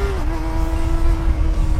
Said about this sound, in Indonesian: memberi sensasi merdunya suara 4 silinder ke pengendara dan pengguna jalan sekitar